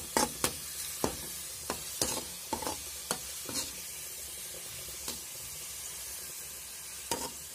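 Nellore-style fish curry masala frying in a clay pot, with a steady close sizzle broken by about a dozen sharp spoon scrapes and knocks against the pot.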